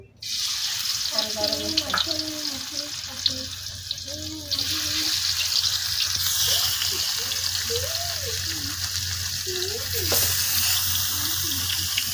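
Chabila fish drops into hot oil in a village kitchen and bursts into a loud, dense, continuous sizzle right from the start. A person keeps talking over the frying throughout.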